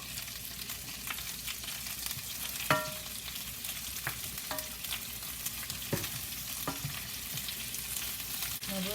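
Green beans, zucchini and onion sauté in a pan with a continuous close sizzle, broken by several sharp utensil clinks and scrapes against the pan, no one speaking.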